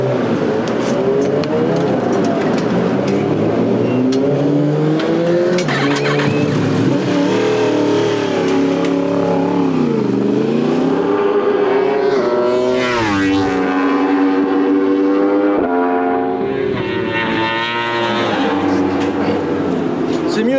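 Race cars lapping a circuit during a hot FP3 free practice session, engines droning and shifting pitch as they pass, with speech over the sustained engine noise throughout.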